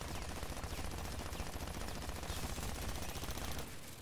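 Rapid continuous machine-gun fire in an Aliens shooter video game, a dense, loud stream of shots rattling without pause for several seconds before cutting off at the end.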